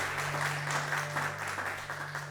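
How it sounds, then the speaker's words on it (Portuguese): Church congregation applauding at a Christmas cantata: steady, moderately distant clapping spread through a hall, continuous and even with a faint hum underneath. "Pode aplaudir ao Senhor."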